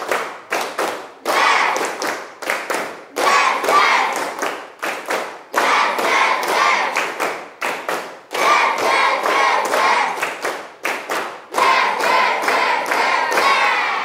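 A class of junior high school students clapping in unison, several loud sharp bursts of rapid group claps separated by short pauses, with crowd voices between some rounds.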